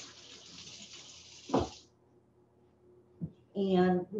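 Tap water runs over hands during a brief rinse at a kitchen sink while roasting vegetables for wild rice bowls, with a soft steady hiss opening the clip, then clunks and short quiet splashes.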